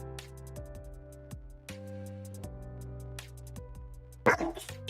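A dog barks a short burst near the end, fairly close, over a steady tonal hum in a quiet indoor room.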